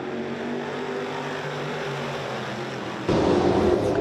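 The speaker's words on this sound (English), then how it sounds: "Motoring into the turn, heat number 3, taking the green out of the corner" Race cars at Georgetown Speedway motoring into a turn during a short track heat, a steady engine roar that swells louder near the end as the field takes the green.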